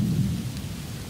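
Rain pours in a dense, steady wash with a deep low rumble underneath, close and continuous without any voices.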